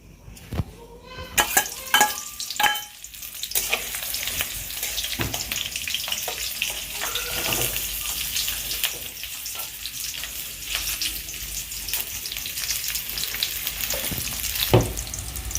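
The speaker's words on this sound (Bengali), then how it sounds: "পেঁয়াজটা কিন্তু লাল লাল করে ভাজা হচ্ছে" Onions frying in oil until reddish-brown, a loud steady close sizzle throughout, broken by a few clanks and scrapes of a utensil against the pan early on.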